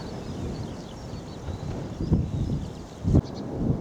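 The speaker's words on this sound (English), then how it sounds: "You're certainly going to hear the wind." Wind sweeping over open farmland on a countryside walking path near Streatley, a continuous low rumbling buffet on the microphone with stronger gusts surging twice near the end.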